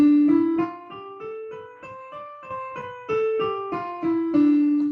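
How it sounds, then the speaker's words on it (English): A Dorian scale played note by note on a plucked or keyboard-like instrument, rising then falling in steady, evenly spaced steps, clear and alone. "One of the most popular is called the Dorian scale."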